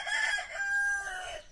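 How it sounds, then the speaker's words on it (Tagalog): Chicken calling nearby in a yard, a short rising squawk-like cluck that swells and fades over a moment, standing alone without talk. "O, yung manok, nakikinig na rin sa aking kwento."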